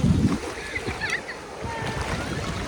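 Sea waves wash onto the beach at Dwarka, with a broad surf rush loudest at the start and a steady windy wash continuing beneath, close to the microphone.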